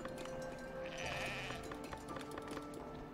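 Sheep bleat in the city-building game Foundation, a faint, brief cry rising over a soft, busy game background with no talk.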